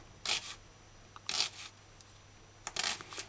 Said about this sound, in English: Slice onions.